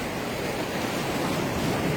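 Steady rush of sea surf, a broad continuous wash of waves without voices, fairly loud and even throughout.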